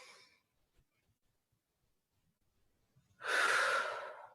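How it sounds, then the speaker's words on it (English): Deep yoga breathing with no props or music: a soft breath trailing off, a long quiet pause, then a loud, close inhale rushing in and slowly fading. "Exhale to the count of 1. Again, inhale. Exhale."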